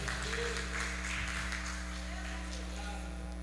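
A church congregation applauds its pastor and his wife, a steady wash of clapping running the whole time over a low electrical hum, with voices mixed in.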